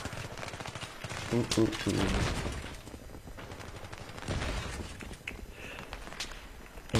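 A G36 rifle fires in a video game, with several bursts of shots coming in quick succession under someone talking and calling out.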